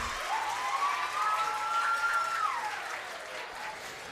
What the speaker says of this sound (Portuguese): palmas para a Laura